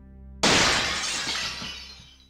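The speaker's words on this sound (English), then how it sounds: "we heard a window shatter." A glass window shatters loudly and suddenly inside a house, a sharp crash followed by a long, fading spray of breaking glass.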